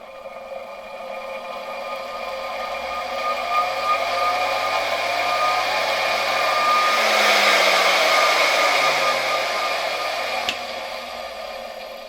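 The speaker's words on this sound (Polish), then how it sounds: "Wirnik zaczyna się powolutku obracać." A 1964 Gamma II vacuum cleaner motor on a workbench, its rotor spinning up slowly with a steady whirring hum and rising tones that swell and then fade, close and loud, with no talking.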